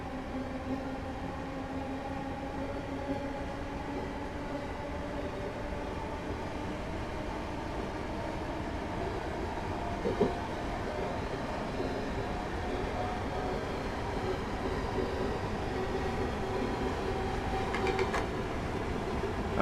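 A Class 321 electric multiple unit on the Harwich Town to Manningtree route in Train Simulator 2017, a steady rumbling cab drone with faint motor whine and occasional rail clicks, continuous throughout with no talk.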